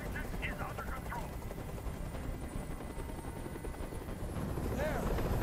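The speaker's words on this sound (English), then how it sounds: "Tell that helicopter to get out of here." A helicopter's rotor chops and roars steadily overhead in Detroit: Become Human, loud and continuous, with faint warbling tones rising near the start and end.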